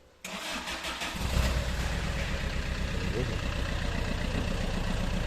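A small Fiat 500 engine cranks and catches abruptly, then settles into a steady, close idle outdoors in Paphos, Cyprus.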